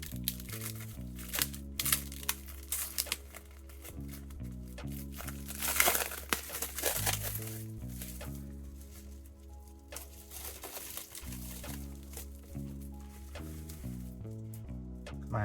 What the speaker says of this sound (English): We'll take this wrapper off.